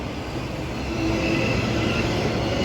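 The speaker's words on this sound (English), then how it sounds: "EMU 114 and its friend about to depart platform number 2 for Mandurah service" Six-car EMU electric train at a suburban platform on a Mandurah service, a loud continuous rolling roar of wheels on track with faint thin squeal tones, heard alone with no talk.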